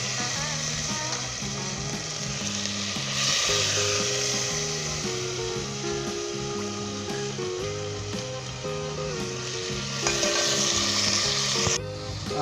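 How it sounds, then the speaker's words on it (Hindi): Mutton frying in a pot gives a loud, continuous sizzle and crackle, while a steady background music hum runs throughout, no talk. "मैंने सारा गोश्त डाल दिया है, उसमें से यखनी में से निकाल के। अब हम इसमें मैंने 2 से 3 मिनट तक इसे फ्राई किया है।"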